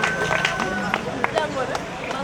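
Students at a mosquito-net handout at a private school in Ouakam applaud for cameras, with loud, uneven bursts of clapping over chattering voices and crowd hubbub.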